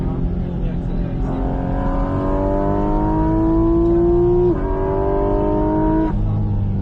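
Car on the Bresse race circuit coming off the brakes and accelerating hard, engine pitch climbing in a couple of steps with a shift near the end, loud and close, with talking over the engine.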